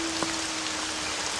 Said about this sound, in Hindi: बारिश बहुत तेज हो चुकी थी।